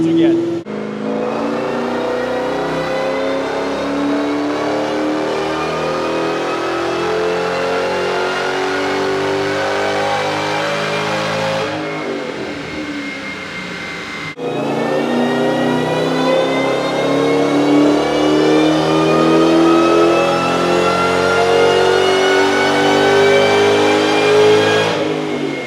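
Terminator Cobra engine on a dyno, roaring through a long rising rev, cutting off briefly, then climbing again loud and close with a rich harmonic whine.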